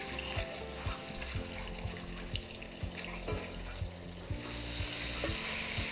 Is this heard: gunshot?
no